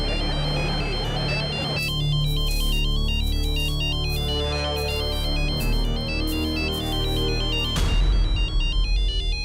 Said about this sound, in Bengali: বাবা বাবা ফোন।